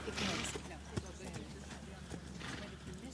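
A horse's hooves clip-clop steadily during a riding lesson, mid-distance, while an instructor talks over them throughout.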